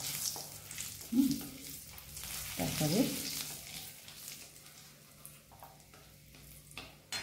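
Cumin seeds sputter in hot ghee with a continuous close sizzle, and a couple of louder scraping stirs of a spoon against the pan come early on, while a voice speaks briefly.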